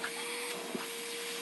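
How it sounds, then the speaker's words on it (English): A cordless 1.6-gallon wet-dry vacuum cleaner runs with a steady, faint motor whine and a constant tonal hum, nearby in a store, with no voices over it. "Look, it's a cordless vacuum."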